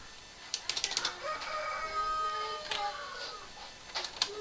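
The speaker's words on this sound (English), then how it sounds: "I don't know if you can hear that rooster." A rooster crows faintly in the distance, its drawn-out call rising over quiet outdoor background with a few small clicks.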